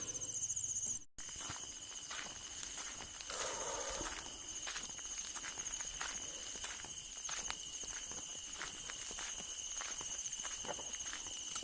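Footsteps walking at night along the embankment of a reservoir in a remote area, a steady crunching tread close by, with a dense chorus of insects buzzing constantly in the background.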